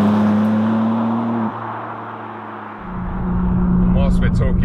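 BMW M4 CSL with the S58 engine, heard from inside the car: a loud, steady engine drone that dips at a gear change and then builds again as it accelerates, with someone talking near the end.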